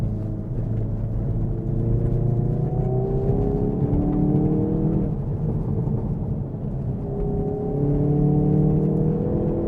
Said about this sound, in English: you can just put your foot into the accelerator and it responds so quickly